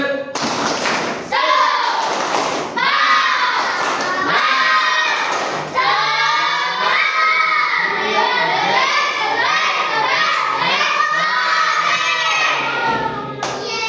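Schoolchildren in an Islamic religious education class perform the tepuk semangat spirit clap chant, loud rhythmic clapping and shouted group chanting running nearly unbroken for several seconds at close range.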